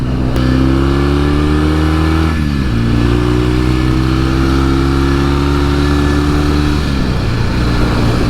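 A 1968 Norton Commando 750 classic British motorcycle runs on the road in its run-in period, its engine droning loud and steady with two clear shifts in pitch, probably gear changes, and wind rushing underneath.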